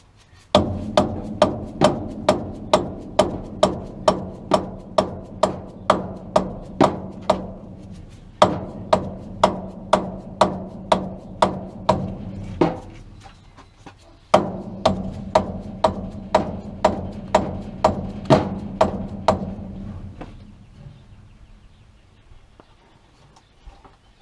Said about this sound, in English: Go grab a dead blow.